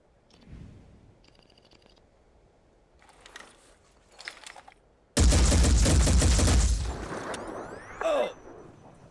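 A heavy soldier in the tactical video game Phoenix Point fires a loud, dense burst of automatic gunfire lasting about two seconds, after a few quiet mechanical clicks and whirs, followed by a brief whooshing tail.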